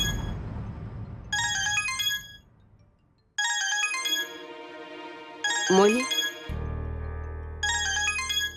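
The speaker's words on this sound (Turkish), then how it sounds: "Telefonu ne zamandır çalıyor?" A mobile phone ringtone plays loud, repeated bursts of bright chiming tones separated by brief pauses, with other sounds and music in between.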